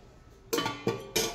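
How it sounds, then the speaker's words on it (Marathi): A metal plate set down over a cooking pan as a lid in a home kitchen gives three sharp clinking knocks in close succession, near and fairly loud. "ताट ठेवूया ना"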